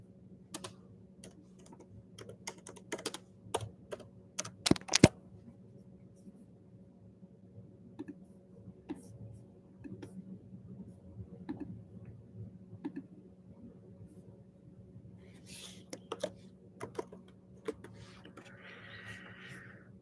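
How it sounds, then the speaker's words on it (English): Keystrokes on a computer keyboard come in quiet, irregular bursts of clicks, some louder taps standing out, against a soft steady hum in an otherwise hushed room. "Let me just finish this typing."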